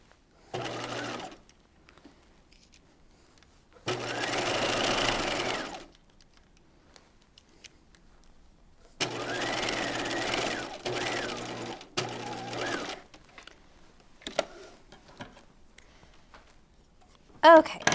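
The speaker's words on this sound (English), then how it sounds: "And then I can stitch all the way to the top." A sewing machine stitches a seam on an apron dress in several quick whirring bursts of a second or two each, with quiet gaps between them.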